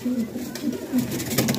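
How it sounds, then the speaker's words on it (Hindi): A black-faced pigeon at a pigeon sale coos in several low, rounded bursts, close and clear, with someone talking faintly behind. "काला मुखी कबूतर है"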